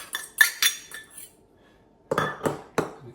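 Cheese and eggs mixed together in a jug: a few light clinks of a utensil, a pause, then louder rhythmic scraping and knocking strokes close by, with no talk.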